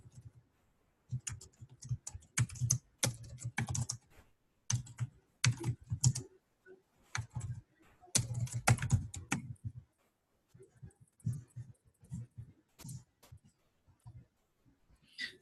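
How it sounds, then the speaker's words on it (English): Computer keyboard typing comes in quick clattering bursts of keystrokes separated by short pauses, close and fairly quiet in a silent room. "I'm going to type in here the description."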